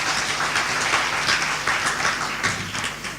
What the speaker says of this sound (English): a round of applause for Maria